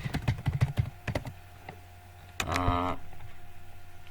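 Quick bursts of keystrokes on a computer keyboard, close and crisp, come in a short flurry, then a pause, then a brief whirring noise with faint ticking.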